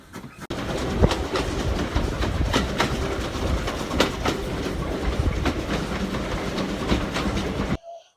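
A heritage steam railway train on the South Devon Railway rolls along with a steady rumble and rhythmic clickety-clack of wheels over rail joints, heard loudly from on board, ending abruptly.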